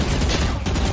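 Rapid gunfire from the tactical shooter Valorant, a dense burst of loud close shots filling the whole moment.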